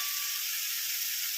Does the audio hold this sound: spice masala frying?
yes